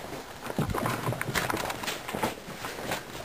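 A horse walks near a barn, hooves clip-clopping in an uneven, steady rhythm close by, with some scuffing and background noise around the steps.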